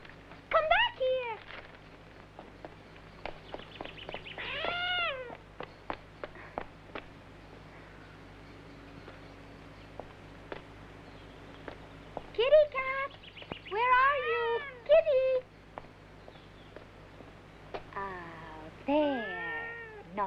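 A cat meows repeatedly in drawn-out, wavering cries, loud and close, with quiet gaps and clicks between calls.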